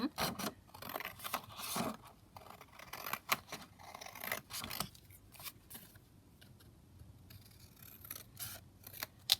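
Scissors snip through card in a papercraft session, a series of close, crisp cuts in uneven bursts with soft scraping and handling sounds between them.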